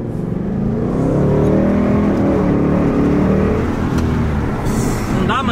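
Ford Mustang engine revving in heavy traffic, a loud close rumble swelling and easing over several seconds with a faint whir, no clear talking.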